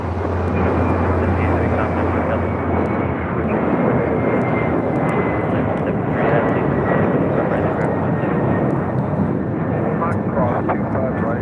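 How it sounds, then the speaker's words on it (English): A Delta Boeing 767-300ER jet takes off at LAX on its way to JFK: a loud, steady engine roar holds for the whole stretch, with a faint high whine above the low rumble. "This is Delta Airlines 678 taking off to JFK on a 767 300ER"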